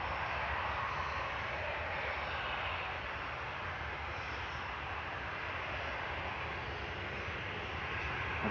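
Airliner taking off from Manchester Airport, a constant, broad engine roar at moderate distance that stays even throughout with no speech.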